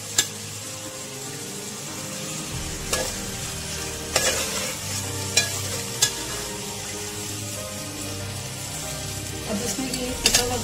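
Achar masala stir-fried in a pan for aloo matar tehri, a continuous sizzle with repeated spoon scrapes and clinks against the pan, no voices.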